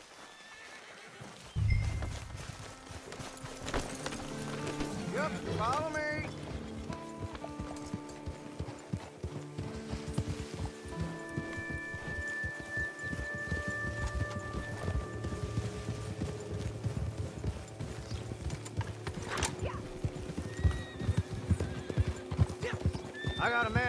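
Horses in Red Dead Redemption 2 trot along with a steady, continuous clip-clop of hooves and a whinny near the start, while someone speaks briefly over the riding.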